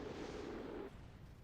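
A spacecraft explodes in Kerbal Space Program, a soft rumbling boom that holds for almost a second and then cuts off sharply, faint and distant, with no voices.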